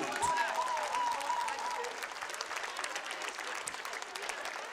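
An audience in a sports arena applauds a singer, steady crowd clapping throughout with a brief voice over the noise at the start.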